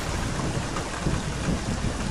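Steady rain with a low thunder rumble outside an asylum in a horror video game, a dense, continuous wash of sound with no voices.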